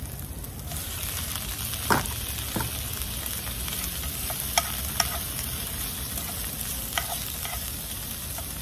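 Shrimp stir-frying in a hot pan for an udon soup bowl, a steady close sizzle and crackle with occasional clicks of the utensil scraping the pan, no talk.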